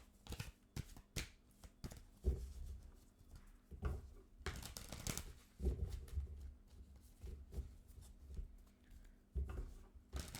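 Tarot cards being shuffled by hand, with soft riffling bursts and papery flicks coming in irregular clusters, close and fairly quiet, and no speech over them.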